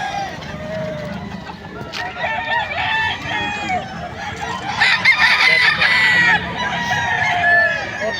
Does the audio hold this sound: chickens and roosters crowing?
yes